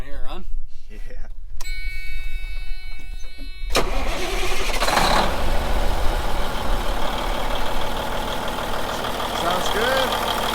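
A 1996 Freightliner FLD120 semi truck's diesel engine cranks with a whine, fires up and settles into a loud, steady idle rumble, close by, with voices briefly heard.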